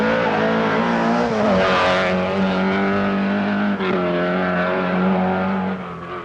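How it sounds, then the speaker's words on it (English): A Group B-era rally car driven by Toivonen on the 1983 Monte Carlo Rally roars past at high revs, engine note climbing and dropping as a front wheel locks briefly with a short tyre scrub, loud and close throughout. "As Toivonen momentarily locks up a front wheel"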